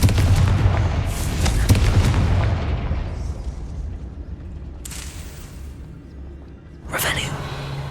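Loud booming Confringo fire-blast spell in Hogwarts Legacy, a heavy rumbling burst that fades over several seconds with a later sharp crack near the end, a voice talking underneath.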